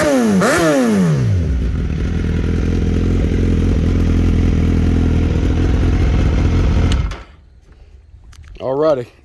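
A 2016 Suzuki GSX-S1000F motorcycle engine revs hard and loud up close, rising through sweeping pitch climbs and then holding a strong steady roar for several seconds before cutting off, followed by one shorter rev near the end.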